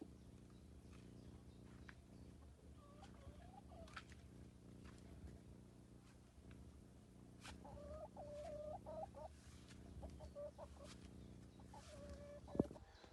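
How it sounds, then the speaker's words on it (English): A chicken clucks in short, soft bursts of a few notes each, spaced across a steady low hum, with a sharper squawk near the end and no talking. "first here's a chicken"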